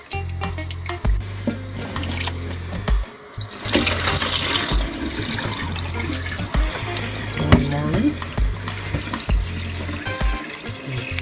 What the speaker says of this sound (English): Now it's time to wash the mackerel